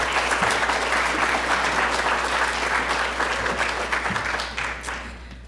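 An audience applauds steadily for a speaker at a talk on responsible AI as she is welcomed to the stage, a dense wash of clapping that holds loud and fades slightly toward the end.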